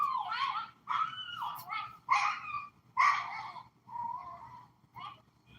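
A dog barks and whimpers in a string of excited, yelping bursts, with about six separate outbursts spaced over several seconds. The dog sounds moderately near and carries on over a faint background hum.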